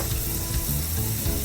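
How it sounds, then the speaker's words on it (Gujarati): Whole tempering spices crackle and sizzle loudly in hot oil for Gujarati kadhi, a close, constant hiss with faint popping throughout and no talk. "અહીંયા મમ્મી વઘાર કરે છે કઢીનો"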